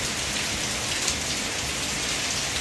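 Heavy rain pours down in a steady, dense roar, loud and close throughout, with no voices and no breaks in the downpour.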